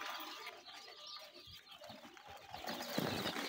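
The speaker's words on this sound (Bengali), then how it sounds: "কোয়েল পাখির বাচ্চা।" A group of 11-day-old quail chicks on a small quail farm calls faintly and continuously, with soft overlapping chirps and cooing notes at low volume.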